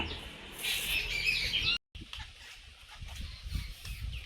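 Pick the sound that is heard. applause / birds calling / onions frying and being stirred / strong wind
birds calling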